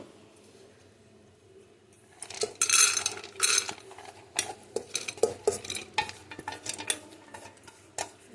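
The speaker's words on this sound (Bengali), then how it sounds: "ডাল জিনিসটা এতবার ধুতে হয় প্রচুরবার ধুতে হয়" Split chickpeas (chana dal) swished and stirred by hand in water in a metal pot, with sloshing, scraping and clinking bursts that grow busier after a quiet start, close and fairly loud.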